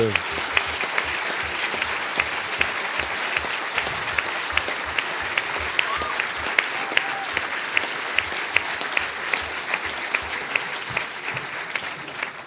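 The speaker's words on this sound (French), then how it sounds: "la chorale des étudiants que l'on peut applaudir" Sustained audience applause for a student choir at a lecture event, dense steady clapping from a crowd that continues evenly for over twelve seconds.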